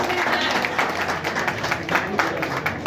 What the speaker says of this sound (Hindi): ताली तो कम से कम बजा देंगे हम लोग।